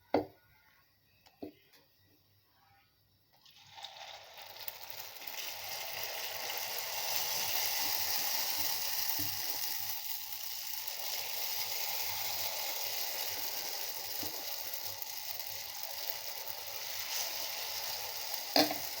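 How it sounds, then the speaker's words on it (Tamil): Ragi kuzhi paniyaram batter poured into hot oil in a paniyaram pan starts a steady, close sizzle after a few seconds of near silence. The frying hiss then holds even and continuous. "பணியாரம் ஊற்றிட்டேங்க. பாருங்கள், சூப்பராக எண்ணெய் காயுதுங்க."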